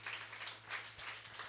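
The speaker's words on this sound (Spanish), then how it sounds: "Dele ofrenda de palmas al Señor." A church congregation applauds, a faint, steady patter of many hands clapping, swelling in a few bursts over a low background hum.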